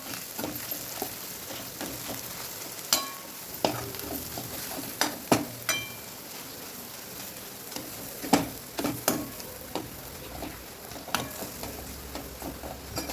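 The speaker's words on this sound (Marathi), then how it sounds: "आपण जो स्मॅश केलेला बटाटा आहे तो त्यामध्ये टाकून घ्यायचा आहे आणि ते एकत्र मिक्स करून घेतलं आहे" Smashed potato is stirred into a patty mixture in a pan: a spoon or spatula clacks and scrapes against the pan in irregular knocks over a constant low sizzle.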